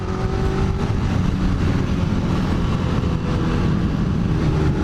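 A motorcycle engine revs hard as the rider accelerates to beat a changing traffic light, a loud, steady roar with heavy wind rumble running continuously from start to finish.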